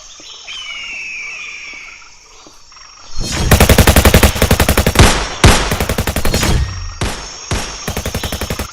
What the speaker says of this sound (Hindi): जवान चुपचाप फायरिंग करो